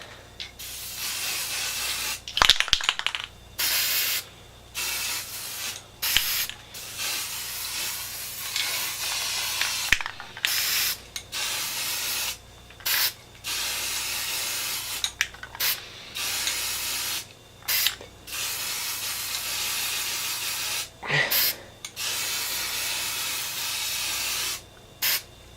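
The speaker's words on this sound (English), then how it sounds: "I'm also gonna point the paint a bit farther away just to make sure I'm not spraying it on too heavy" Aerosol paint sprayed onto a Nerf Triad blaster in repeated short hissing bursts separated by pauses, close and loud, with no talking.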